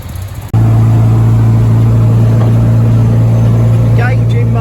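After a brief muffled start, an Austin A30's small engine drones loudly and steadily as the car accelerates along a motorway, a close, constant hum with faint high tones near the end.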